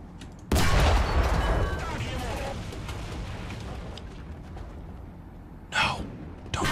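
An artillery strike in the War Thunder tank game lands as a sudden heavy blast that booms and rumbles for several seconds. A second, shorter burst follows near the end.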